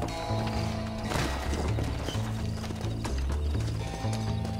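Horse hooves clip-clop at a steady gallop in the Red Dead Redemption video game, with a loud whinny breaking through over a continuous backdrop of game music.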